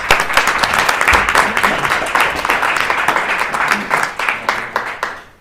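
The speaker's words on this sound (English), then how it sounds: "and they deserve another applause" Audience applause after a team presentation at a cultural-heritage hackathon event, dense steady clapping from a crowd lasting several seconds before tapering off near the end.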